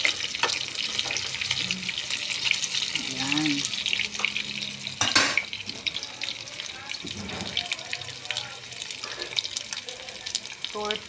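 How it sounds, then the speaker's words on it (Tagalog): An anchovy omelette sizzles and crackles frying in a pan while utensils clink and scrape, with a brief spoken word partway through. "Prito ako ng tortang dilis."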